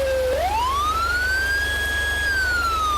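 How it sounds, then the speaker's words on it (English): Emergency vehicle siren in a Roblox game rises sharply into a long, loud sustained wail, then begins to fall, over a steady low engine rumble. "Let's do lights and siren."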